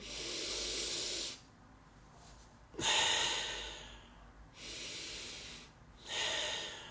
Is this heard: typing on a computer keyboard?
no